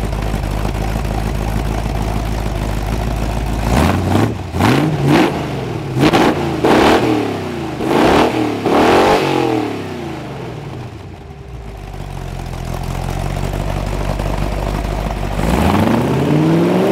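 A Chrysler 318 V8 stroked to 349 idling, then revved hard in a series of sharp bursts that rise and fall, settling back to idle before one more rev at the end.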